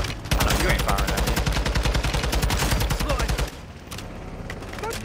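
Rapid automatic gunfire in the video game Call of Duty Modern Warfare 2, with a loud, dense burst of repeated shots that cuts off sharply, followed by quieter scattered shots.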